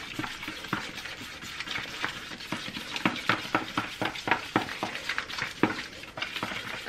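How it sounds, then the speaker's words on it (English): Aztec bentonite clay mask mixture is stirred and mashed in a bowl, a quick series of wet clicks, scrapes and squelches in an irregular rhythm, close and moderately quiet. "So I'm just gonna continue mixing it and breaking apart the clumps"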